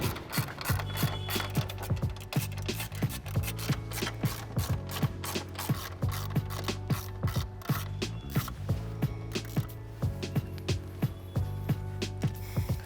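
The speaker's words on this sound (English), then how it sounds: "Next, remove 4 10mm bolts securing the top of the grille." Rapid ratchet clicking while 10mm bolts come out of the top of a 2009-2018 Dodge Ram grille, close and steady in repeated bursts with short pauses between, no talking.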